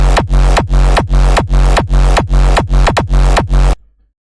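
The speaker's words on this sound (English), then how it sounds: "I'm going to start off by the kick, which sounds like this." A heavy, distorted hardstyle kick drum pounds in a steady rhythm, about ten hits, each followed by a booming reversed bass tail, loud and close, ending abruptly.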